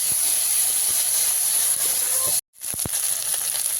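Steady hissing sizzle of coriander, dried chilli and cumin pastes frying in oil in a pan, loud and constant, broken by a brief silent cut before the sizzling resumes with a few small pops.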